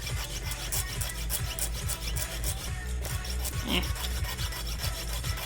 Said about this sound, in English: Because sawing is, like I said, the thing that takes the most amount of time.